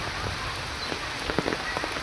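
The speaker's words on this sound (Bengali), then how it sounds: "বৃষ্টি আসছে" Steady rain patters on a surface nearby, with a few distinct drops standing out against the continuous hiss.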